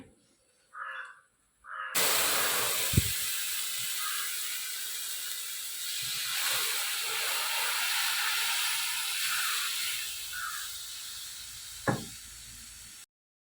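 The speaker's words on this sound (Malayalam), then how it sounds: "പാല് ഒഴിച്ചു കൊടുക്കുകയാണേ" Milk poured into a hot seasoned uruli over fried semiya for payasam sets off a sudden loud hiss and sizzle that continues and slowly fades, with a few clunks of a spoon against the vessel.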